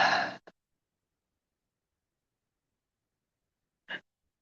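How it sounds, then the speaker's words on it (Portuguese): A person breathing during a guided breathing exercise: a short audible breath at the start, then near silence, then a second brief breath a few seconds later, close to the microphone. "Enche seu pulmão de ar."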